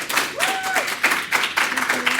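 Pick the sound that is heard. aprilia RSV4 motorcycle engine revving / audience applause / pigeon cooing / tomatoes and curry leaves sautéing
audience applause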